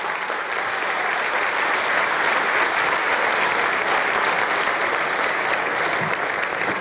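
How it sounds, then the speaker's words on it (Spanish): A crowd applauds steadily at a graduation ceremony in Venezuela, a dense continuous wash of clapping that holds at an even level from start to finish. "Un aplauso para ellos."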